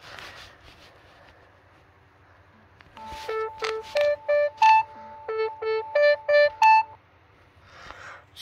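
A Samsung Galaxy Watch4 runs its water ejection routine, playing a quick series of about a dozen short electronic beeps in a stepped rhythm after a few quiet seconds, close to the microphone.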